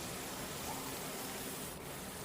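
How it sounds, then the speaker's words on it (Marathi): Crisp papdi sizzling in hot oil, a continuous bubbling hiss with small pops, faint and close, a short dip in the sizzle near the end. "छान क्रिस्पी असा आवाज येतोय. आता दुसरी बॅच देखील आपल्याला अशाच प्रकारे तळून घ्यायची आहे."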